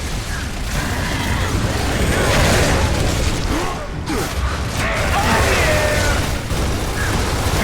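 A frag grenade goes off in the Gears of War 3 video game, a loud, dense burst buried in a continuous wash of battle noise that stays heavy throughout.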